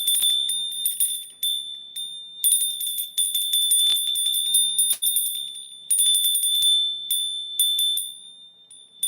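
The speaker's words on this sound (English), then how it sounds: "And we got the bell of happiness." A bright bell rings with sustained high metallic tones, struck again and again over about nine seconds, each new strike renewing the shimmering ring.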